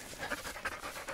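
A tired dog pants in quick, steady breaths while walking across wide open fields on a multi-day taiga hike, the rhythmic huffing close and fairly loud with no talk over it.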